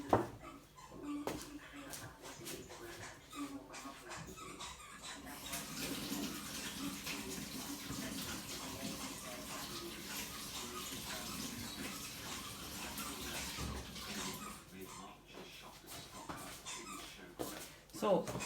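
Tap water runs steadily as clay is rinsed off hands, with a person talking over it and dogs whimpering and playing nearby.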